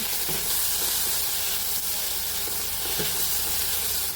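Sliced bitter gourd sautés in a hot pan, giving a loud, steady hiss of sizzling oil with a few soft stirring scrapes, close up and with no voices.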